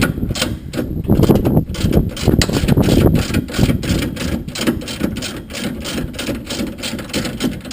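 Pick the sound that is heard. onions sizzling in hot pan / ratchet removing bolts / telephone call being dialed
ratchet removing bolts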